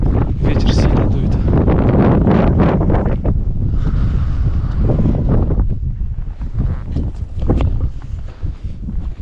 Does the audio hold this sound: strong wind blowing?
yes